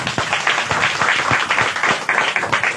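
A church congregation claps loudly for God during a Hindi-language sermon, a dense burst of many hands applauding close and steady for a few seconds.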